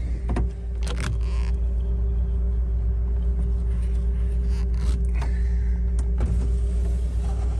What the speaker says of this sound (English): All the windows go up and down nicely.